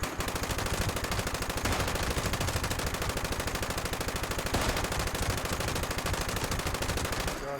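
Rapid automatic gunfire from a shooter video game, nearly continuous bursts rattling loud and close for several seconds, with no voices over it.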